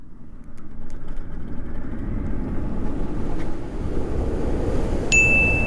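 An electric Ducati motorcycle accelerates hard from 0 to 60, a rising whine faintly climbing under heavy, continuous wind roar close to the microphone.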